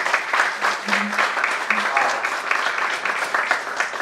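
Audience applause at a hospital community event in Western Kenya, a steady sustained wash of clapping lasting several seconds, with a few brief vocal tones rising above it near the start.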